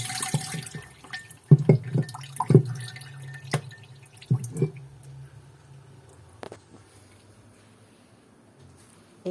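Water from melting freezer ice dripping into a metal pot below, a series of distinct close plinks and splats that start busy and thin out to sparse drops in a quiet room.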